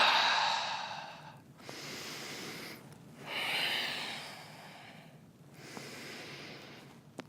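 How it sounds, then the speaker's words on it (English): Slow, breathy exhalations out through the mouth during a yoga flow, three long airy breaths separated by short pauses, close and fairly soft, with no talking. "inhale through the nose, out through the mouth"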